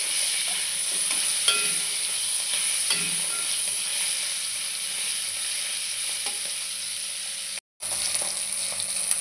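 Hilsa fish heads fry with salt and turmeric in hot oil, giving a steady, close sizzle with occasional stirring scrapes and a brief cutout near the end.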